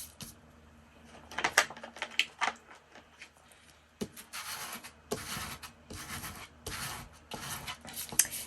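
A squeegee-style scraper folder tool rubs glued paper flat while making a journal, giving repeated close scraping strokes in short rhythmic bursts, quiet between passes.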